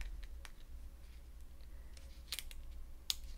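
Scissors make several quiet, crisp snips while trimming an orange paper sticker for a scrapbook page, the short clicks spaced irregularly over a low steady hum.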